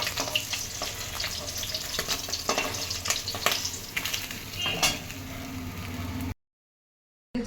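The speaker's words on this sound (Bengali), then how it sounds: "আবার দু পিস করে তুলে আরও আছে ভাজবো" Rohu fish pieces fry in hot oil with a continuous close sizzle, punctuated by occasional scraping and clinks of a utensil in the pan, ending in a brief silence.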